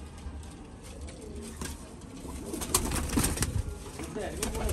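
Pet pigeons cooing softly in a pair held by keepers, low murmuring coos mixed with rustling and background noise, fairly faint.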